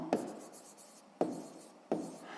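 A pen writes an answer by hand on paper in a maths exercise, three short scratching strokes, each starting with a sharp tap then trailing off, close and quiet with no talking.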